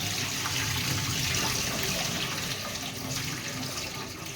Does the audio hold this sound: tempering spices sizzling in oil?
no